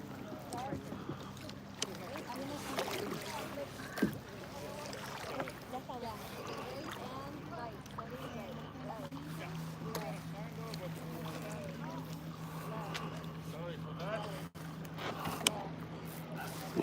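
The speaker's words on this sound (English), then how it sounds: "One-handed kayaking." A kayak paddles among icebergs, with a person paddling one-handed; soft, irregular water splashes and paddle strokes sit under wind noise and people talking close by.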